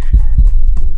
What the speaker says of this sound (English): His heartbeat increased rapidly.